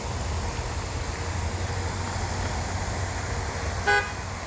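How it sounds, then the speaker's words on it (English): A car comes along the road beside a historic country church and cemetery in Bethlehem, Georgia, a steady rising rumble of tyres and engine, with a brief horn toot near the end. "there's a car coming, which is very weird"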